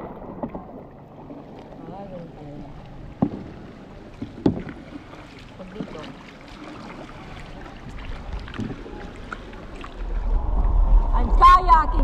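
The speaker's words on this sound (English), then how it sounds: "I'm kayaking, guys." A kayak is paddled across a big lagoon in El Nido: soft water sloshes and drips with occasional knocks of the paddle, close up, with wind buffeting the microphone toward the end and a voice briefly heard.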